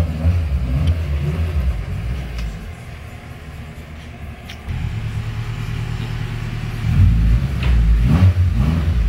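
Honda EG hatchback with a swapped K20 engine, strapped on a dyno, gives a loud low rumbling idle and revs that swell in two stages, the last surge loudest, with no talking.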